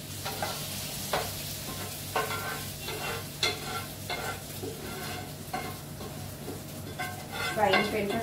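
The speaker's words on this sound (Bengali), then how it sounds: "ফ্রাইং প্যানটা খুব গরম ছিল তো" Leftover cauliflower curry sizzles in a very hot frying pan as a spatula scrapes and stirs, with soft clinks of the pan at irregular intervals, close and fairly quiet.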